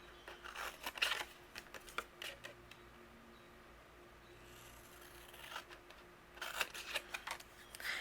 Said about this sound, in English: I do want to cut along my cut line here